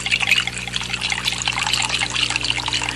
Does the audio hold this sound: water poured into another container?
yes